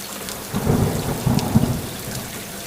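Rain falls with a low rumble of thunder rising and fading in a brief animated story sound effect, steady downpour with no voices.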